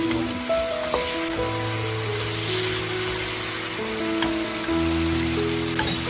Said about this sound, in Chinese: 快速翻炒，给鹅肉上色。